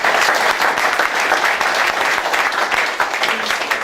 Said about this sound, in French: donc on peut les applaudir.